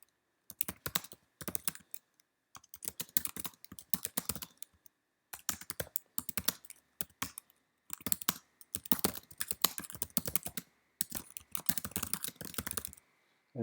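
Quick, crisp typing on a computer keyboard, bursts of keystrokes separated by short pauses, close and fairly quiet.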